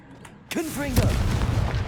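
A Confringo explosive spell blast from the Hogwarts Legacy video game, a sudden loud burst followed by a booming, crackling rumble with a short descending whine, close and alone.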